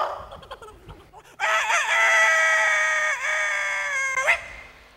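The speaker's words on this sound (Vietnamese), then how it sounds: "Đúng rồi, con gà." A loud rooster crowing sound effect played during a children's music show, one long drawn-out cock-a-doodle-doo lasting about three seconds after a few quieter background noises.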